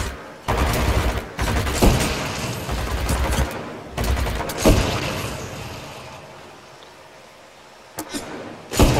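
Rapid bursts of gunfire from a shooter video game, Titanfall 2, crackling densely through most of the stretch with short breaks and a few louder blasts, while a voice speaks briefly beneath the shooting.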